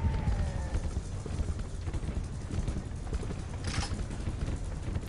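Horse hooves clip-clop steadily at a riding pace in the Red Dead western game, close and continuous, with creaks and rumble around them and no speech.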